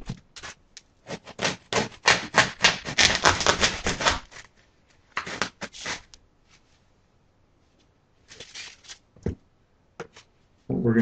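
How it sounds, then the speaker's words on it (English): Stonewool pipe insulation being cut for a coupling, giving bursts of rapid scratchy, rasping strokes in several separate runs with quiet pauses between. "we'll cut this insulation"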